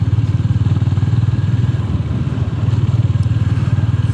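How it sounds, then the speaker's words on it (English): A Honda GB 350 S street motorcycle is ridden at a steady pace, its single-cylinder engine producing a continuous, close, low rhythmic thumping with a slight wavering in intensity throughout. "this is not a cruiser, it's a street bike"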